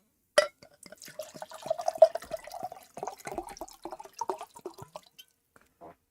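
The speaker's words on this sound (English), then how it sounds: "going to pour myself some water. I've got a bottle of water. I've brought a glass with me." Water pours from a bottle into a glass close by, a gurgling, splashing stream lasting about five seconds and then trailing off into a few last drips, with no talking.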